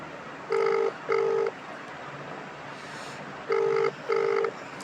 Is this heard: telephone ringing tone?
yes